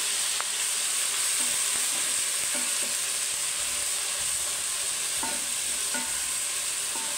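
Garlic-ginger paste frying in hot oil for a dhaba-style fried dal, a continuous close sizzle with occasional soft stirring clicks and no voices.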